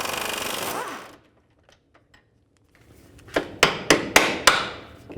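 A hammer taps the control arm bolt on a 2003–2010 BMW X3 several times in quick succession, sharp metallic knocks ringing out close and loud after a broad burst of noise and a quiet pause.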